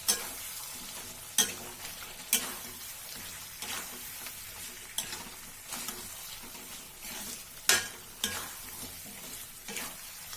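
Chicken is stirred with ginger-garlic paste in a kadai, with repeated scraping strokes of the spoon against the pan coming in irregular bursts over a low sizzle.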